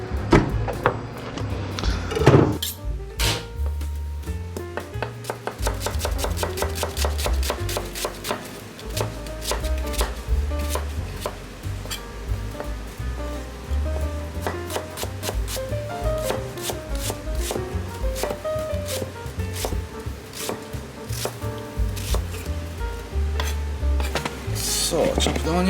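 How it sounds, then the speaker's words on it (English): Onion being chopped with a knife on a board for a John Dory tartar sauce, steady close knife taps repeating throughout with occasional dish and utensil clatter, no voices. "chopped onion"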